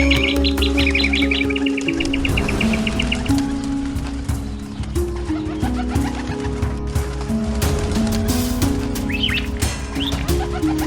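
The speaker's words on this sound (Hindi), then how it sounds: "ये पंछी तो जाल में फंस गए हैं।" Small birds caught in a net give repeated high chirps and tweets, with some cooing, over a dense, continuous bed of other sound.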